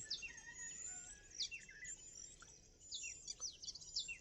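Several birds chirp and tweet in quick, repeated bursts against a soft steady background, fairly faint and outdoors, with no talking.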